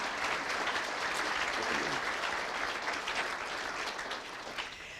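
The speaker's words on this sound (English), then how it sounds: "Let's give her another round of applause." Sustained, dense applause from an audience at the 2017 Poudre River Forum, steady and loud throughout and easing slightly near the end, with no talk over it.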